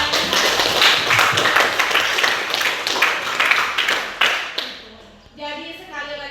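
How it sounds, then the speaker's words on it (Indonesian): A class gives a student a round of applause. Dense, steady clapping mixed with children's voices fades out near the end. "Beri aplaus untuk Ananda"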